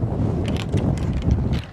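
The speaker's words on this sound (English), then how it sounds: "very windy off the left" Strong wind buffets the microphone on a seaside golf course at Nefyn in Wales, a steady loud low rumble with gusty surges and no voices.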